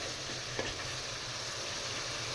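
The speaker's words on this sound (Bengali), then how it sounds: "তাহলে মশলাটা আমি এবার কষিয়ে নিই।" A spice paste of ginger and garlic for fish curry fries in a pan, giving a steady, faint sizzle with a soft scrape of stirring partway through.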